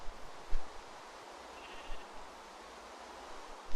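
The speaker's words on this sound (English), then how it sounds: "Mr. Sheep, you should consider going into the barn." A sheep in the Minecraft TerraFirmaCraft mod bleats a few short times near a barn in the rain, soft calls over a constant wash of rainfall.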